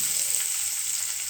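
Chopped onion fries in a hot pan, giving a steady, close, bright sizzle that stays even throughout the short stretch with no talking.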